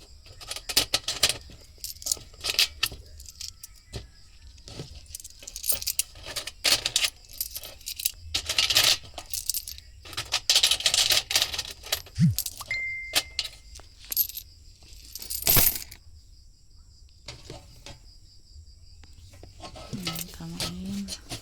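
Peso coins handled and counted by hand, with repeated metallic clinks, jingles and taps in irregular bursts, close and fairly quiet, and one sharper clatter partway through.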